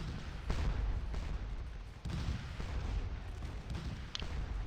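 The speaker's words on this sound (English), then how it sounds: "we are indeed firing on the cannon" Artillery cannon firing in the Scourge of War Remastered battle game: several deep booms and rumbling blasts roll over continuous low battlefield din, with no talking.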